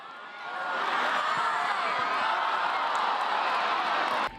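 Sellout crowd at a women's soccer match at the Maryland SoccerPlex in Boyds, Washington Spirit against Chicago Red Stars, roaring and cheering in a dense, continuous swell that rises and holds, then cuts off abruptly.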